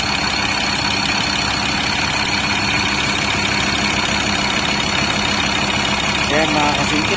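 A Ford Ranger 3.2 diesel with an injector control pressure fault, code P2291, idles loudly and steadily up close with an even rumble and a faint voice near the end.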